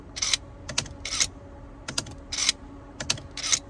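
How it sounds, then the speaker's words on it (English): A BMW E60 steering wheel lock motor runs in short, repeated whirring bursts with clicks and mechanical notchy sounds in between, close and fairly quiet, with no talking. "There's a distinct difference in the note of the motor, and I wonder if the motor's getting tired."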